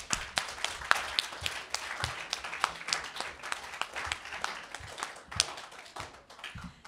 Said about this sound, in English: please clap your hands as strong, as much as you could do this